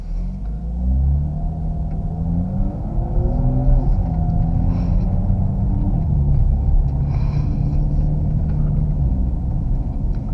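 A 2018 BMW M2 Coupe driving on the road, its engine rumbling steadily and loud inside the cabin with rising and falling rev tones; the pebble rattle in the wheel arches is not clearly separable.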